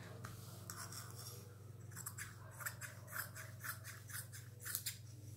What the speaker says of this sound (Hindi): इसे हमें पहले सीधा इस तरह से कट करना है